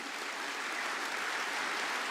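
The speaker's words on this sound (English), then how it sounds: "Can we have a round of applause for them" Steady, dense clapping from a conference audience fills the whole moment, continuous and even, with no voices on top.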